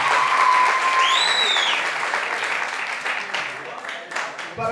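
Sustained applause from a crowd, with dense clapping that continues throughout and fades slightly toward the end.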